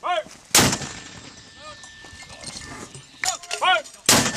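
US Marines fire artillery on a live-fire exercise in Australia: two loud, sharp booming shots ring out, with shouted voices and commands between them.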